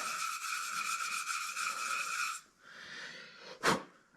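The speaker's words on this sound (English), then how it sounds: "So I'm just gonna take some Scotch-Brite and just rough it up, give it a little bit of a key to the surface." A Scotch-Brite pad rubs quickly and rhythmically over a board to rough up its surface, a close, scratchy back-and-forth scrubbing. It stops, and one brief louder scuff follows.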